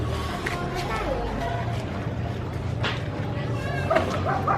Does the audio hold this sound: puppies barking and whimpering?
yes